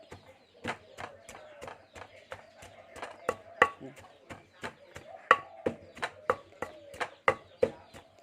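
Rhythmic pounding of mackerel and onion in a mortar, about two sharp thuds per second, each hit distinct and close. Someone speaks quietly underneath.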